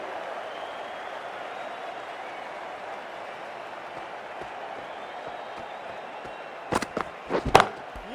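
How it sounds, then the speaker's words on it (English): A stadium crowd in the cricket video game Cricket 24 keeps up a steady, distant roar, and a few sharp bursts of clapping and cheering break through near the end. "Please give him a round of applause"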